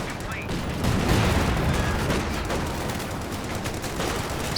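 Bursts of M1919 machine gun fire rattle over a dense battlefield din in Company of Heroes 2, with continuous overlapping gunfire and booms filling the scene.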